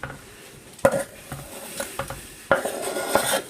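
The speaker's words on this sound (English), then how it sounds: "I'm going to put in the chilli, the mint and the oregano, and the onion." Chopped chilli, mint, oregano and onion are tipped into a bowl with a few loud clanks of utensil on dish, separated by softer rustles and taps, close and without talk.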